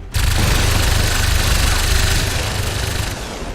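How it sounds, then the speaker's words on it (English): A dense, sustained roar of rapid gunfire and explosions from the video game XCOM 2: War of the Chosen fills the clip, loud and continuous like a heavy firefight. "try to threaten him a little bit more with some more gunshots"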